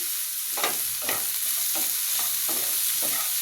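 Spices with salt and chili powder frying in a pan, a soft steady sizzle broken by about six scraping stirs at a fairly even pace.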